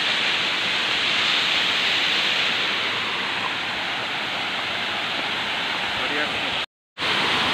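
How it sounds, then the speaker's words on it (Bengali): Water from a hillside waterfall runs down a stream below, making a loud, steady broadband rush. The sound cuts out briefly near the end. "এই ঝর্ণাটা নিচ দিয়ে জল যাচ্ছে"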